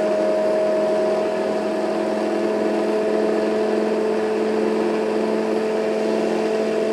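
A homemade lensless generator spinning up to speed, giving a steady whirring hum with fixed tonal lines, loud and close, continuous throughout without any voices.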